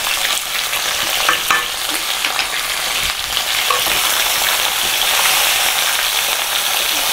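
Tomatoes seasoned with salt and chili powder sauté in a pan, giving a loud, continuous sizzle and crackle with occasional scrapes of stirring throughout.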